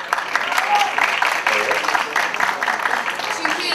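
An audience applauds at an awards ceremony as a music-video director heads to the stage; a continuous clapping wash runs under a presenter's talk.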